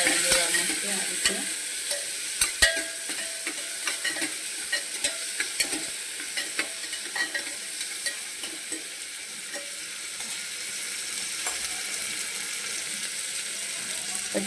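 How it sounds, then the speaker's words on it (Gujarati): Green chillies and tomatoes sautéing in hot oil with asafoetida and turmeric for a masoor lentil dish. A steady close sizzle runs throughout, broken by irregular clicks and scrapes of a spoon stirring in the pan. "પછી એમાં આપણે લીલા મરચાં અને ટમેટાં આ આપણે એમાં પકડાવી દેવાનું છે આ રીતે"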